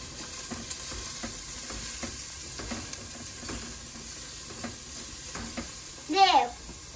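Onion frying and being stirred in a pot, with a steady soft sizzle under repeated light scraping stirs and a louder clatter near the end, heard nearby with no talking.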